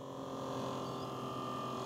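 A steady low electric hum comes from an Outin Nano portable espresso coffee maker, constant and fairly quiet from start to end with no other sounds.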